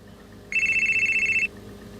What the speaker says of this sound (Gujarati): કોકનો ફોન આવ્યો